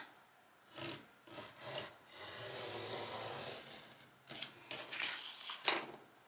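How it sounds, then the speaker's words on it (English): A razor blade scrapes and cuts through a Dollar Tree starfish relax sign, rasping strokes in bursts with one longer drawn-out scrape, close and moderately quiet. "I'm gonna try to take a razor blade here and see if I can just cut this"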